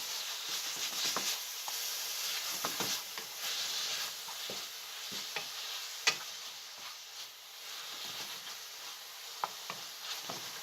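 Oyster mushrooms with Vegeta and salt being stirred in a frying pan, a soft sizzle under scattered scraping and tapping of the utensil, quiet and close.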